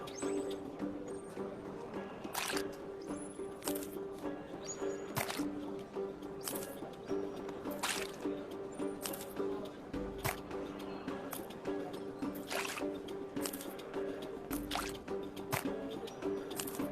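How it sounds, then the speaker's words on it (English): Pork cubes being added to a marinade, a series of soft, wet squishes and drips spaced a second or two apart, close and fairly quiet against a steady low background hum. "Add the pork cubes to the marinade and let it sit."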